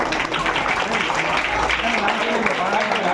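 Schoolchildren clapping together at a school assembly in Kannapuram, a dense continuous patter of many small hands filling the room, with a voice talking over it.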